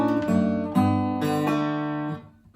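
A guitar in Travis picking style plays a few plucked notes, with a first-finger pull-off sounding as a quick slurred note change, clear and close, ringing out then fading.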